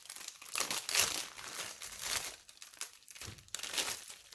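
Small stickers are worked out of crinkly plastic packaging, giving near, continuous crackling and crinkling with rustling bursts and brief pauses, no talking.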